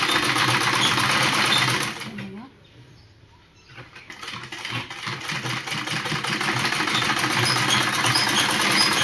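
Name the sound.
sewing machine stitching a satin petticoat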